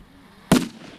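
Simulated explosion during tactical medicine training: one sharp, loud blast that cuts off quickly, followed by a brief low rumbling tail over a quiet background.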